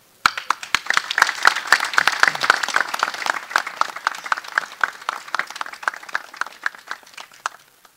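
A festival opening audience bursts into sustained applause, dense overlapping claps building quickly and holding steady for several seconds, with a few sharper individual claps standing out near the front.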